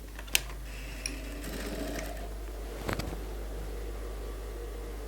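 A sewing machine runs a seam on a suit, a soft, low mechanical whir over steady hum, broken by a couple of sharp clicks and knocks.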